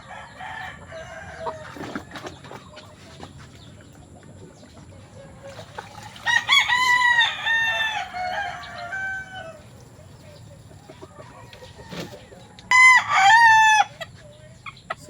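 A brood hen and chickens in a backyard cluck quietly and then crow twice, loud and close, over faint background noise.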